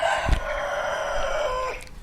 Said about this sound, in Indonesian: Maaf suara ayam.